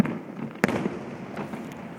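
Fireworks bursting over the sea at the Penghu marine fireworks festival: one sharp boom heard at a distance, followed by a faint rumbling tail and a few softer crackles.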